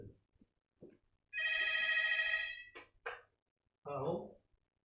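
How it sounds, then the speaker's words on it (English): A telephone rings in a room, a steady electronic ring running for about a second and a half and then two shorter bursts, with brief talk before the ringing and a voice speaking just after. "I'm sorry, that's a phone in my room."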